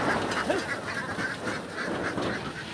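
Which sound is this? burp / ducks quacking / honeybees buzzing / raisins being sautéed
ducks quacking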